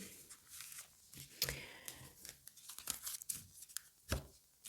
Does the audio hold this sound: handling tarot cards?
yes